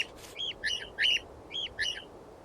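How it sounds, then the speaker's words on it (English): A budgerigar calls in the Wingspan video game, giving four short, bright chirps in an uneven rhythm, close and clear over a quiet background. "Budgies learn specific group calls that help them find their group within vast"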